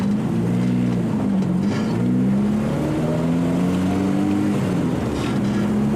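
A car with a right-hand-drive conversion pulls away and cruises, its engine drone rising and falling through gear changes, steady and close throughout.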